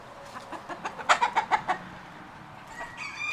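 Loose duck calling outdoors on a farm in snowy weather before a blizzard, a run of six or seven loud, close quacking calls in quick succession, then quieter calls trailing off.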